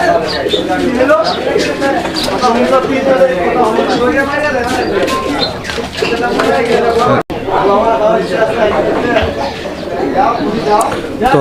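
Belgian bloodline racing pigeons cooing in soft repeated throaty calls, heard close and steady beneath continuous talking.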